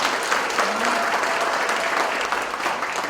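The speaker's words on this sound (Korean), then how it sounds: "박수 한번 보내주시면 감사하겠습니다." Audience at a talk concert giving a dense, continuous round of applause, loud and even throughout with no speech over it.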